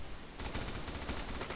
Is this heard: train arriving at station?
no